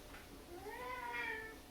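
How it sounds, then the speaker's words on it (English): A single cat meow rises and falls in pitch over about a second. It is faint and close, over a quiet background hiss. "Does my cat count?"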